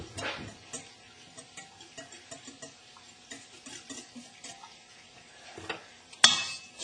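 A spoon gently stirs yogurt into 43-degree milk, making soft rhythmic scraping and clinking taps against the pot, faint and close, ending in a sharper knock.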